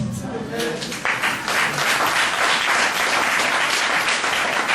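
Congregation at a Montreal church service bursts into loud applause acclaiming Jesus, beginning under a preacher's voice, then swelling into sustained dense clapping with cheering close to the listener.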